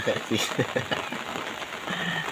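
Morning rain begins to fall, a soft, steady patter spread across the whole stretch, heard faintly under someone talking nearby.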